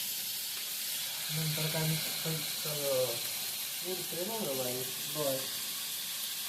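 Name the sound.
tomato and onion frying in pan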